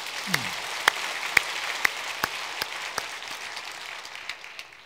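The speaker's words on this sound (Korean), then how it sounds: "다시 한번 박수 한번." A church congregation gives a round of applause for the choir on Pentecost Sunday, a soft, sparse patter with a few sharp, evenly spaced claps standing out above it.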